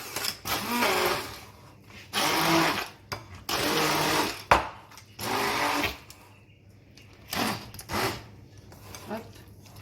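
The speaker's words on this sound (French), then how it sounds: "je vais d'abord faire un petit coup de mixeur" A kitchen blender whirs in several short bursts as it blends cauliflower leaves. The loud, close pulses stop and start with brief pauses between them, and a voice speaks in the gaps.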